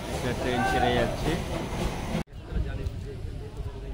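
A train pulls out of Darjeeling station. A low rumble and rolling clatter fill the air, voices are heard around it, and the sound cuts sharply partway through before the rumble continues.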